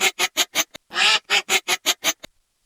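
Cartoon ducks quacking in a fast, even run of about a dozen loud, bright, nasal quacks, one drawn out longer, then silence.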